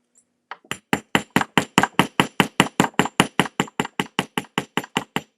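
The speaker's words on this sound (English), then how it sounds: "I need to hammer this down a little bit" About twenty quick, evenly spaced hammer blows ring out on a pewter jewelry piece being flattened, each a sharp metallic tap with a bright clink, close and loud, in a steady rhythm.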